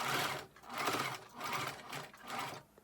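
A sewing machine topstitches around three sides of the cuffs on a denim dress with lace trim, running in four even bursts of rapid stitching separated by short pauses.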